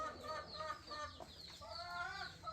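Backyard laying hens cluck and squawk close by in a series of short, overlapping calls, moderately loud against a quiet garden setting.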